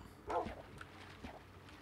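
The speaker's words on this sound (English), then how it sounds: "Come on, dogs, let's go inside." Dog barks in the Minecraft video game, a short yip-like bark followed by a fainter second bark, heard over quiet in-game background ambience.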